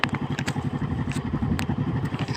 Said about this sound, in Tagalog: Kasi pag tumatakbo yung sasakyan, yung motor, sobrang lakas ng hangin